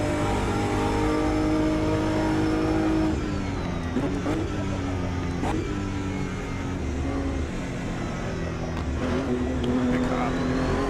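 GT3 race cars in the racing game Automobilista 2 roar and rev steadily throughout, engine pitch rising and falling as gears change, with a voice talking over the engine noise.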